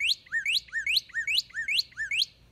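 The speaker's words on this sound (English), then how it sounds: "You can then select the sounds and listen to the calls of that bird." Northern cardinal call played back from a phone birding app, five clear rising and falling whistled phrases repeated in an even rhythm, bright and fairly close with no talk.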